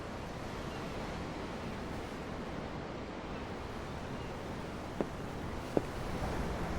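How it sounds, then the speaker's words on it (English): Ocean waves from a Tales of Arise story cutscene, heard as a steady, broad wash of surf with no voices, broken by two faint clicks near the end. "I'm looking at the ocean."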